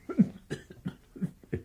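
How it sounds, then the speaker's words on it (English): A short burst of several quick, rough coughs from one person, close and fairly quiet, with no talking. "That cough."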